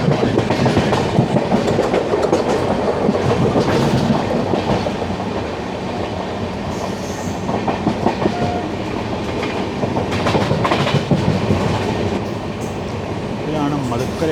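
The 16332 Express runs into Madukkarai station after a ghat section, giving steady rail clatter and rhythmic clickety-clack heard from on board, with a voice talking over the rolling noise.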